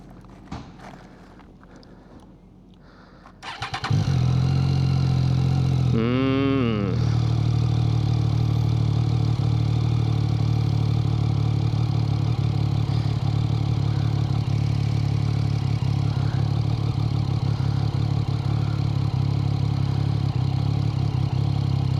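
A motorbike in Chiang Mai, Thailand, starts up after a short quiet stretch, then settles into a loud, steady idle close by. A brief rising whine sounds partway through, and the engine keeps running to the end.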